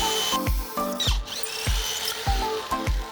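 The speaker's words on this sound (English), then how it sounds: "you're gonna need a metal drill bit to drill through this bar and the other bar" Power drill with a metal bit boring through a steel roof rack bar on a van, several short whirring bursts that rev up and wind down in a loose repeating rhythm, close and loud.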